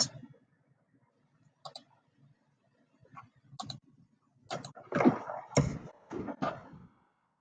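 Computer mouse clicks while setting a date and time in an online Canvas calendar: sparse, faint single clicks at first, then a denser cluster of sharper, closer clicks near the end.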